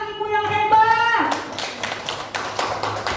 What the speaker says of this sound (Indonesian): Tepuk tangan untuk anak-anak ibu yang hebat